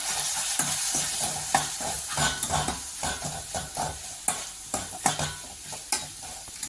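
A spoon scrapes and stirs a sizzling curry mixture for turkey berry kuzhambu in a pan, with rhythmic clanks over a constant frying hiss.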